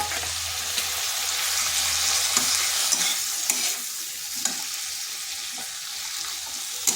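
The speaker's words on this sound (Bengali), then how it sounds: "দিয়ে দিচ্ছি মশলাটা যে মশলাটা বেটে রেখেছিলাম" Ground spice paste goes into a pan of beans frying in a home kitchen, raising a loud, steady sizzle with a spoon stirring and scraping close up, plus occasional small clicks against the pan.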